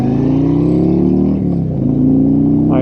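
A Harley-Davidson Road Glide Limited motorcycle cruises down a four-lane highway at 70 miles an hour. A steady, close engine drone mixes with wind rush, and the tone dips briefly midway.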